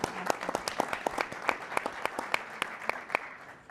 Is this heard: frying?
no